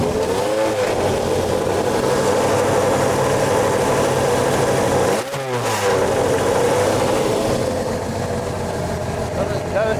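A race car engine runs loud and close throughout, with a couple of rising revs and one brief dip, while people talk over the noise.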